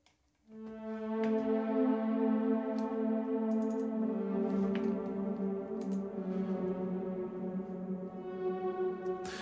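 A warm, sustained wavetable synth pad plays a slow melody of long held tones that shift gradually, with faint ticking clicks scattered through it.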